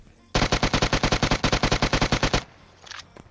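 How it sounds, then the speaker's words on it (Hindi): Automatic fire from an SMG in PUBG Mobile rattles off in one loud, rapid burst of about twenty close shots, then breaks off, followed by a couple of fainter distant cracks. "मैं उन पे थोड़े से शॉट लेने की कोशिश करता हूं"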